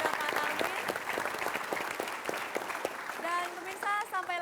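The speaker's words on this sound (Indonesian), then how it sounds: "kita berikan tepuk tangan sekali lagi untuk para narasumber kita" Studio audience applause for guest speakers on an Indonesian political talk show, loud and sustained clapping that rises into cheering. Faint voices join near the end.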